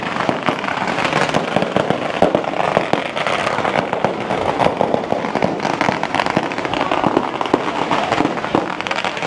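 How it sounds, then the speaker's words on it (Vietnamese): Firecrackers burst nonstop as a festival palanquin procession moves along a crowded beach, a loud, dense rattle of rapid cracks and pops that barely lets up. "kiệu cứ đi đến đâu là pháo bắn đến đó"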